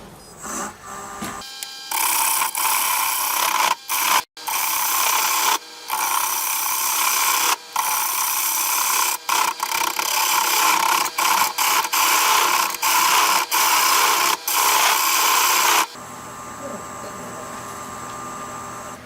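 A wood lathe spins an oak crotch blank for a natural-edge bowl at about 500 RPM, giving a loud mechanical whir with rhythmic clacking and repeated brief cutoffs, then quieter running near the end.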